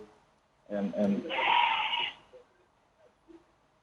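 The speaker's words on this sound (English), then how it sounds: "I think the goat in the background would have wanted to have a say as well." A goat bleats once in the background, a drawn-out wavering cry lasting about a second and a half, heard behind a talk-show discussion with no overlapping speech at that moment.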